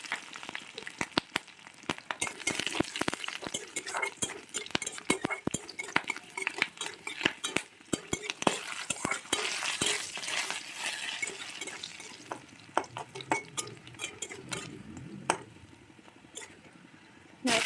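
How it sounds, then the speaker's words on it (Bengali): Black cumin, garlic and green chillies are stirred in hot oil, the pan giving off a soft background sizzle under many sharp clicks and scrapes of the utensil against the metal, steady throughout. "তেলের মধ্যে কালো জিরে দেওয়া হলো রসুন তারপর কাঁচা লঙ্কা একটু নাড়াচাড়া করে নিতে হবে"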